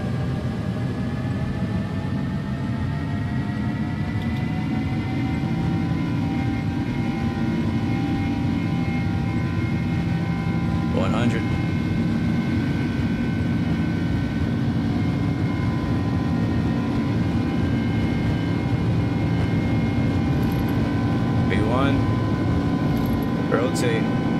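Airbus A300F freighter jet engines roaring during a takeoff roll in the X-Plane 11 flight simulator, a loud steady broadband rumble with rising whine tones throughout, with occasional brief voices over it.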